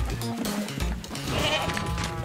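A goat in the Moving Out 2 video game lets out a wavering, nasal bleat that rises above upbeat game music and clattering effects, close and fairly loud.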